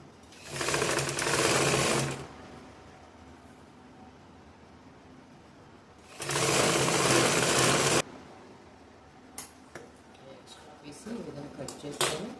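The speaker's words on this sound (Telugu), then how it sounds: "ఇప్పుడు ఈ బ్లౌజ్కి ఈ విధంగా ఇక్కడ పెట్టుకొని స్టిచ్ చేసుకోవాలి" A sewing machine stitches a back belt piece onto a lined blouse in two loud, steady runs of rapid whirring, separated by quiet pauses, followed by light handling clicks and rustles.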